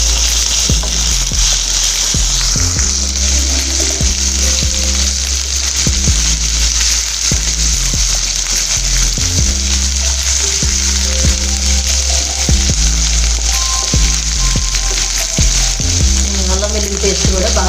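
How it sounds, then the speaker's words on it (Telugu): Ginger garlic paste and onion frying in a pan for brinjal fry, a loud continuous sizzle with periodic spatula scrapes, a low electrical hum underneath, and no speech. "అల్లం వెల్లుల్లి పేస్ట్ కూడా బాగా వేగింది."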